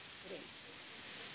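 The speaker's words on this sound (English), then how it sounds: "if you can hear that sound in the background, it's raining at the moment." Rain falls outside in the United Kingdom as a steady, faint broadband hiss, with a muffled voice briefly audible in the background.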